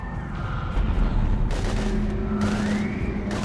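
Sustained video game combat in Mass Effect 3, with steady rumbling fire and several sharper bursts of shooting layered over a constant low drone, no voices.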